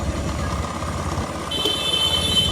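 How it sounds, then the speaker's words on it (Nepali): A motorcycle engine hums steadily nearby, joined halfway through by a high, thin tone, with no talking. "बाइक हिँड्दाखेरि त राम्रो हिँडेछ आवाज त मिठो"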